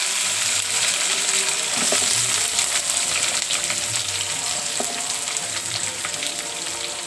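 Onion sizzling in hot oil in a pan already holding popped mustard seeds and chana dal, a steady close frying hiss with soft stirring scrapes, cooked as the base for a tondekayi (ivy gourd) palya.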